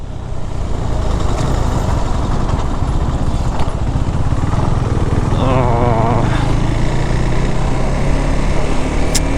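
A KTM Duke 390 single-cylinder motorcycle thumps steadily nearby, with the engine note rising and falling slightly under wind rush. It sounds like the bike is being ridden.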